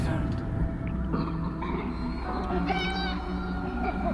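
A cat meows in a video game: a short, higher-pitched meow rises near the end over a steady hum of game sound and faint background voices.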